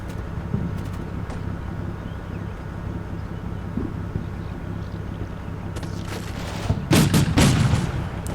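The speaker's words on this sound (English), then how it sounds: "Yeah, that must be our artillery coming down." Artillery fire in the war game Combat Mission Black Sea, a low rumbling background that breaks near the end into a cluster of loud, sharp booming impacts.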